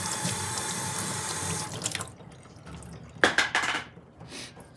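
A reverse osmosis water filter cartridge is rinsed under a running tap at a sink, a steady gush of water that stops, followed by a few brief splashes and bursts of flow.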